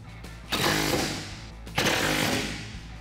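Power tool driving a 13 millimeter socket to tighten bolts on a Jeep Wrangler JK tire carrier bracket, two loud buzzing bursts over a steady low hum, close up.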